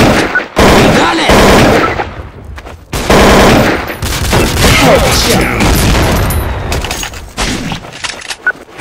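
Rapid bursts of Counter-Strike: Source gunfire rattle loudly, automatic fire with booming shots and brief pauses between volleys.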